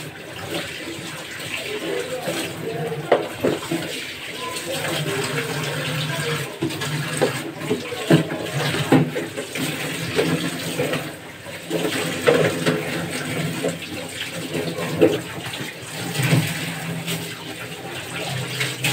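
Running tap water splashes steadily over kitchen containers being washed in a sink. A continuous close gush carries small clatters of handling throughout, with occasional faint talk underneath.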